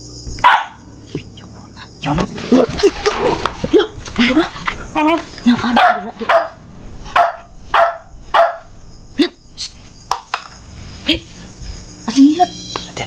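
A dog barks in short, sharp bursts spaced through a tense indoor scene, close and fairly loud, while people talk between and over the barks.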